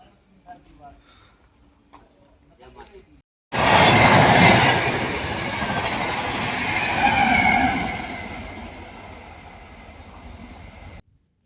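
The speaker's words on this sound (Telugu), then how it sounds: "ఇప్పుడు వెళ్ళిన ట్రైన్ నెంబర్ వచ్చేసి 2222 ముంబై CSMT రాజధాని ఎక్స్ప్రెస్" The Mumbai CSMT Rajdhani Express thunders past close by through Babina railway station, a loud sustained rumble and rush that swells, holds for several seconds, then cuts off; brief voices before it arrives.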